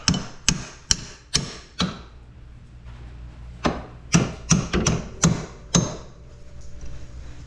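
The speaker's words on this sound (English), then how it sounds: "To get this bracket in here, you have to tap it down a little bit." Lift kit bracket tapped into place on a Honda Talon side-by-side, about a dozen sharp metallic hammer taps, close and crisp, in two uneven groups with a short pause between, no talking.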